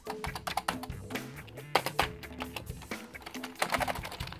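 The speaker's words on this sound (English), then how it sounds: "maybe it's its typewriter quality, the sound of the keys, but it's just beautiful" Crisp, clacky Canon V-20 MSX computer keyboard keys typed in quick bursts, with a typewriter-like mechanical snap to each press, close up.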